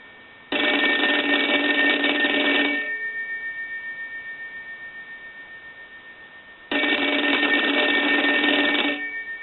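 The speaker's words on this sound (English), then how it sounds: "we're going to go ahead and ring the telephone" Telephone bell rings loudly in two long bursts with a quiet gap between, a steady electronic-sounding ring heard alone with no talk.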